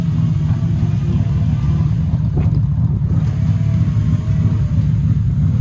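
A Lexus SC300 engine idles through a newly installed exhaust silencer with a deep, steady exhaust rumble, low and continuous, with a faint brief tick partway through.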